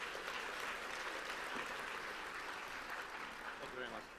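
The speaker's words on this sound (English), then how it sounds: "Would you please give him a warm round of applause?" A conference audience in Prague gives a warm round of applause for a speaker introduced on stage, soft and distant, steady clapping that tapers slightly toward the end.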